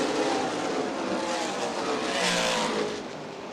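Stock cars racing at Winchester Speedway during the ARCA/CRA Super Series 100: a loud, dense roar of several engines at speed that swells and then eases slightly as the pack moves past, with no talking.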